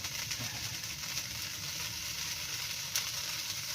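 Rice frying in a little cooking oil for Filipino garlic fried rice (sinangag), a steady close sizzle with faint scraping of stirring throughout, no talking.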